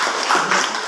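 Brief burst of applause from a classroom audience after a group presentation in a teacher-training session, a steady, dense patter of many hands clapping at moderate volume.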